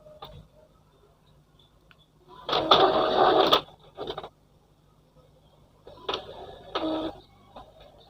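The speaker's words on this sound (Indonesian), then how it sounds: "Ini printer sudah melakukan tes untuk nozzle-nya." An Epson L3110 inkjet printer running a nozzle check prints in two mechanical bursts of whirring, clicking carriage and feed noise, each about a second long, with quiet pauses and small ticks between them.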